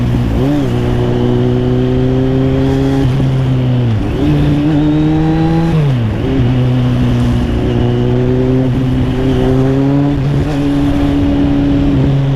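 A Kawasaki Z800 motorcycle rides through Bangkok traffic, its engine loud and close throughout, droning steadily with several gear changes that drop and then climb the pitch again.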